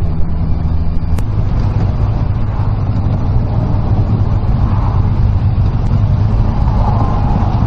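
Steady, loud road and engine drone of a motorcycle cruising along Shuto Expressway Route 4 in Tokyo, early morning, a continuous rumble with wind noise and no pauses.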